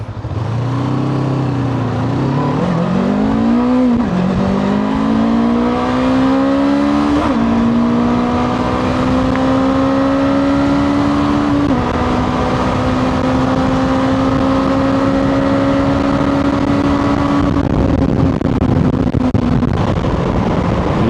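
A 2025 KOVE 510 X motorcycle accelerating hard at high revs, its engine note climbing through several gear changes and then holding a loud, steady high-pitched drone, heard close from the rider's position with wind noise.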